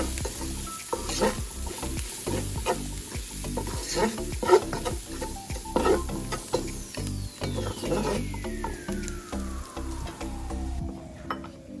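Steady sizzling of chicken frying in a pan for cauliflower maqlooba while a utensil stirs and scrapes through it, close and continuous, with a rising whine near the end.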